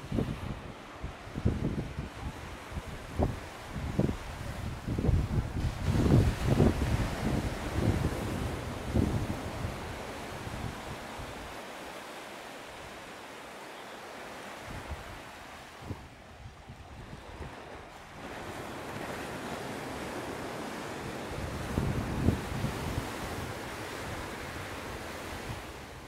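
Ocean surf at Santa Maria Beach, Cape Verde, washes in with repeated crashing swells and broad hiss, with wind buffeting the microphone and a quieter lull partway through.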